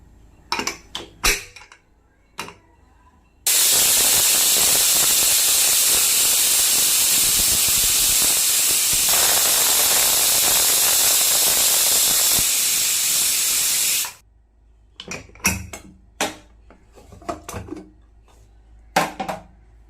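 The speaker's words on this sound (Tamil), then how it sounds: "இப்போ இதை நான் குக்கர் மூடி போட்டு ஒரு 3 விசில் விட போகிறேன்." A pressure cooker cooking mixed lentils for sundal releases a loud, sustained hiss of escaping steam lasting about ten seconds, cutting in abruptly and stopping sharply, with brief clattering kitchen sounds before and after.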